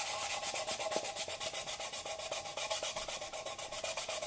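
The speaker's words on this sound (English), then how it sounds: "I'll sand that even." A styrene plastic gun mount for a Proton Pack is sanded level, a close, steady rasping rub in quick regular strokes with no voices.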